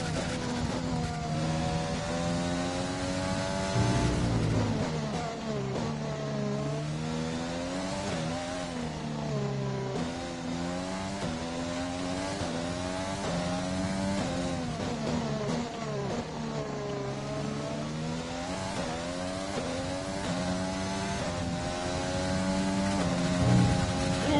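A Formula One car engine in the F1 Championship game, racing at Brazil in the rain, screams continuously at high revs, rising and falling through gear changes as the throttle opens, loud and close for a long stretch.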